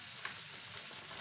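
Chopped potatoes and half-fried onions frying together in a pan for chicken mughlai give off a brief, faint, steady sizzling hiss with no other sounds.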